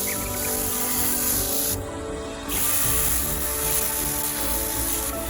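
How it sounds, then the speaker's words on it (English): Continuous hissing spray of water from a garden sprayer around the base of cucumber plants, close and steady, with a short pause partway through before the spraying resumes; no talking. "I'll just spray around the base."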